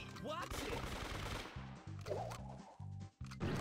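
Rapid gunshots from the Brawl Stars mobile game, repeated bursts of quick mechanical pops in a choppy rhythm over game effects and music, fairly faint, with a player talking briefly.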